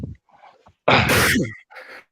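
A single sharp sneeze bursts out loudly after a quick breath, followed by a short exhale.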